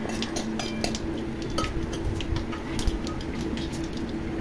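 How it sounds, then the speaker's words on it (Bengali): Boiled raw mango, skin on, goes into a pan of frying spices for chutney, bringing soft clinks of utensil on pan and quiet ticking taps over a steady low sizzle, fairly faint throughout. "দেখুন কাঁচা আম আমি দিয়ে দিলাম।"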